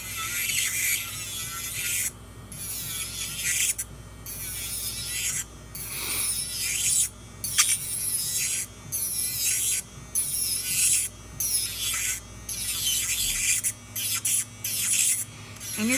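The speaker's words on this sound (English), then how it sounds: "Like this is my first big drill." An electric nail drill files acrylic nails, giving a close, gritty rasping whine in repeated side-to-side strokes broken by brief pauses, with no talk.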